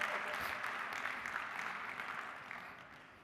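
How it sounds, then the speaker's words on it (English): Keynote audience applauding steadily, a dense wash of clapping that holds level and then tapers off slightly toward the end, with no talking over it. "Give yourselves a round of applause."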